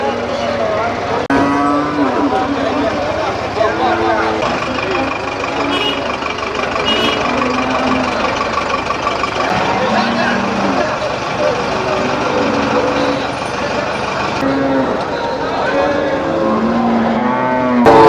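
Cattle low repeatedly at a busy livestock market in Melapalayam, their moos rising over constant crowd chatter and background bustle, with a truck and faint reversing beeps in the mix.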